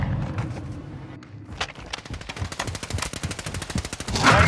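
Rapid automatic gunfire in Call of Duty Modern Warfare 2 during a hardpoint match: loud, dense bursts of repeated shots that build into a near-continuous rattle, with no talking.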